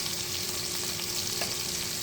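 Steak fries bubble and crackle in hot oil, a dense continuous frying sizzle heard up close with no one talking.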